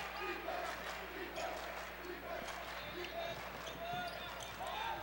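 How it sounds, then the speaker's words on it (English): A crowd at a girls' high school basketball semifinal in an arena calls for defense in a rhythmic chant. Balls bounce and sneakers squeak on the court beneath the steady roar. "The West Hancock crowd calling for defense."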